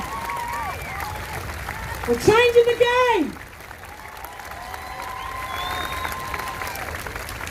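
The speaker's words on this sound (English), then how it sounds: "give yourselves another big round of applause" Outdoor crowd at a Black Lives Matter march, applause and cheering swelling briefly mid-clip beneath an amplified speaker's voice, with crowd murmur continuing around it.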